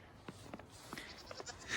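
Goats on a snowy farm give a few short, faint bleats spread across a couple of seconds, with light background noise and no speech.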